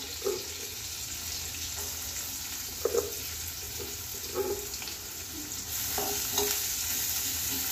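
Half a medium onion sizzles softly in a pan as it is sautéed for a healthy breakfast, with quiet scraping stirs coming every second or so over a low, steady frying hiss.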